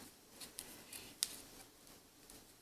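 Scissors snip once near a rope knot while tightening a monkey's fist, giving a single sharp, quiet metallic cut among faint soft rustles, with no talking.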